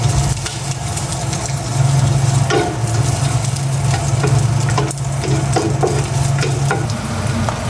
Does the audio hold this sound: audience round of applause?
no